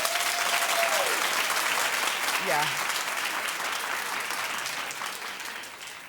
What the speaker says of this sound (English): Clap in the audience if you have godparents.